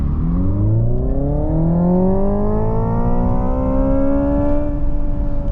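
A Hyundai IONIQ 5 N electric car accelerating hard, heard from inside as a loud, steady, rising motor whine with layered tones climbing in pitch over road rumble, with no talking.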